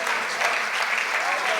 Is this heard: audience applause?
yes